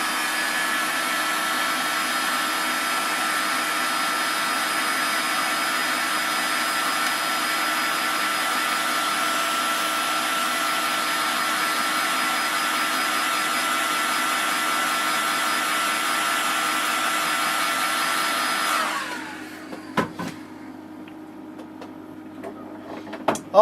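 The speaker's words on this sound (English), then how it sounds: "Just preheat the board a little bit with the heat gun." A heat gun blowing steadily as it preheats an amplifier circuit board during repair, a loud continuous whooshing hiss for about nineteen seconds that then cuts off, followed by a few faint clicks and handling taps.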